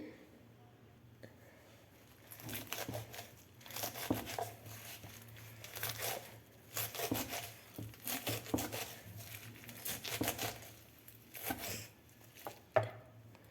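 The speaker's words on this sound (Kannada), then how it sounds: "ಈಗ ಇದನ್ನು ಸಣ್ಣದಾಗಿ ಹೆಚ್ಕೊಳ್ತೀನಿ." A knife finely chops Honagone leafy greens on a board in bursts of quick, crisp strokes, close and moderately loud, with short pauses between runs.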